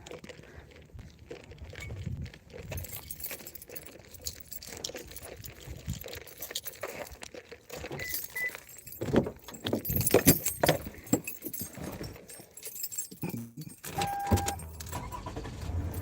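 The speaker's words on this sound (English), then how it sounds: "I have to get in the car and drive" Someone gets into a car near a wilderness park, with keys jangling, rustling, door and seat handling thumps and scattered clicks at close range, irregular and fairly quiet, with no talking.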